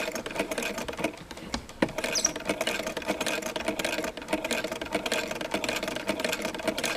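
Sewing machine stitching a handwoven backstrap-woven vest panel with raised presser foot pressure, a steady rapid mechanical whir running continuously, close and without talk.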